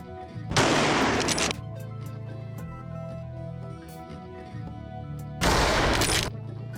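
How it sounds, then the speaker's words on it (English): Rifles fire at wild boars in two loud sustained volleys of rapid gunfire, with quieter background between them. "We tightened our grip on the rifles and fired."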